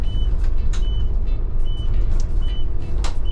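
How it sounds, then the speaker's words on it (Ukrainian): A bus's right turn signal ticks or beeps steadily, about once a second, over the low, constant rumble of the bus engine and road noise inside the cabin. "тут вмикаємо правий поворотник"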